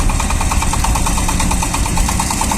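A Shifeng 240 mini tractor engine runs steadily while driving a rotary tiller through garden soil, a loud, continuous mechanical drone with fast rhythmic pulsing and rattling vibration, close by and without speech.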